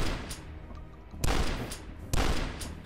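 Double pistols fire in the shooter game DUSK: two loud, close, punchy gunshots about a second apart, each with a short rough tail, over a low hum of game ambience.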